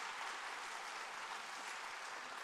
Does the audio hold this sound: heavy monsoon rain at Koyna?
no